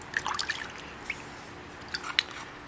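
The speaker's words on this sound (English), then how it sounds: "Hit it with a little water though" Water drips and splashes lightly onto a chert nodule in a few quick, small wet taps, close by and faint against a soft background hiss.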